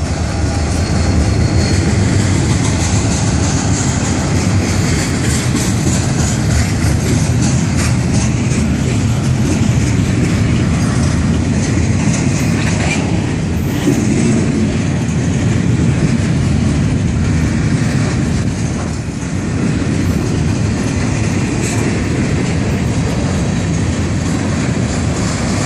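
An FEC freight train rolls steadily past with locomotives 142 and 711 leading, a loud, continuous rumble and rail clatter that holds for the whole stretch with no talk over it.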